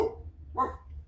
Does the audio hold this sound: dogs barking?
yes